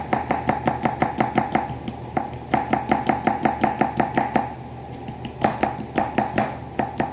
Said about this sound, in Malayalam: ഇങ്ങനെ വെക്കുക വിരല്, നമ്മൾ ചൂണ്ടുവിരല് നഖം ഇങ്ങനെ വെച്ചിട്ട് ഇങ്ങനെ വെട്ടുക